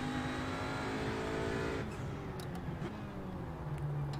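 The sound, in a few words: Audi RS3 race car engine, from video game iRacing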